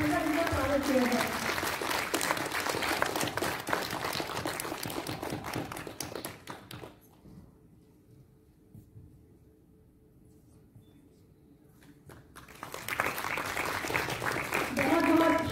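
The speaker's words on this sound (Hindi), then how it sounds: "एक बार जोरदार तालियों के साथ फिर से प्रियंका जी का स्वागत किया जाए" Loud applause from an audience at an International Women's Day event, dense clapping for several seconds that fades to near silence and then swells again.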